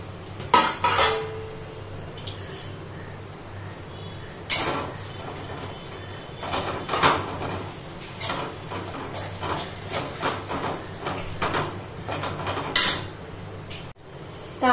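Jaggery melts while being stirred in a pan for a sweet barfi, heard as soft hissing with intermittent metallic scrapes and clinks of a spoon against the pan, fairly quiet with no speech.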